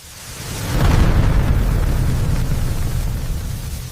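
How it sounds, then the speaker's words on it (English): Jet engine fuel ignition effect: a deep whooshing roar swells over the first second and holds as a steady, broadband rush before easing slightly. "Fuel is injected into the compressed air and ignited."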